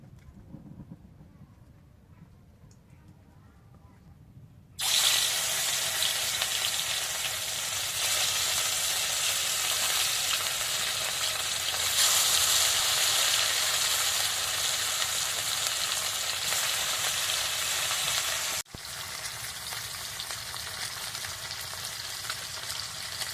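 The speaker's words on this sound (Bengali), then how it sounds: "আমি প্রথমে সর্ষে তেল দিয়ে মাছগুলো ভেজে নেব" Rohu fish pieces fry in mustard oil, a loud continuous hissing sizzle that starts abruptly after a few quiet seconds and carries on steadily, close by.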